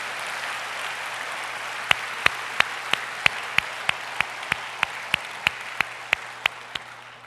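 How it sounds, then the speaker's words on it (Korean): A church congregation gives a short round of encouraging applause for the choir and praise team at a Sunday service. The clapping is distant and soft, with a series of sharp, evenly spaced claps from one nearby pair of hands. "우리 함께 찬양대와 우리 찬양팀 격려의 박수 해주시기를 바랍니다."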